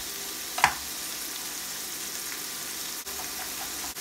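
Minced garlic sizzles steadily in a hot pan with kosher salt, a soft continuous frying hiss with one brief clink of a utensil early on, no voices.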